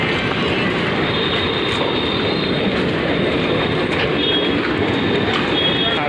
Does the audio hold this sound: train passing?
yes